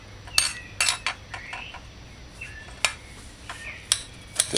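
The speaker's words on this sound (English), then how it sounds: "Dice half of an onion." A knife dices half an onion on a cutting board in a home kitchen, with sharp, irregular chopping taps close by, spaced apart with short pauses between cuts.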